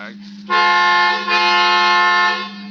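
In a radio drama, a car horn blares in one long, loud, steady honk that starts abruptly and holds for about two seconds.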